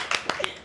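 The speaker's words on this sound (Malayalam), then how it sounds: "എല്ലാവരും ഒന്ന് കൈയടിക്കൂ." A few sharp hand claps from an audience at a family Eid gathering: three quick, close bursts spread over under a second.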